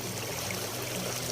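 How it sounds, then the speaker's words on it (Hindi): A river flows steadily along its bank in the hills, a continuous broadband rush of moving water heard close and unbroken, with no voices. "पानी की जो साउंड होती है ना, कलकल कलकल बहती नदियाँ"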